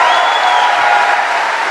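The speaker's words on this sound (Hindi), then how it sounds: "मैं चाहूंगी इससे ज्यादा जोर से ताली बजा सकते हैं आप मेरे मेंटर के लिए।" An audience claps loudly and evenly for a mentor at a business gathering, a dense, steady burst of applause with a faint crowd murmur.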